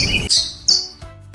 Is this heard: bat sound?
yes